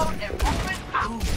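Rapid rifle shots fire from Ashe's weapon in the video game Overwatch, a short cluster of sharp bursts heard under a player's voice.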